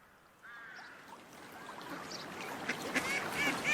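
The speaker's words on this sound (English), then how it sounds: "That duck waddles like your newest mistress, Charles. And quacks like my oldest" Faint ducks quack a few times in the distance, short nasal calls scattered over a soft, noisy outdoor background that grows slightly busier toward the end.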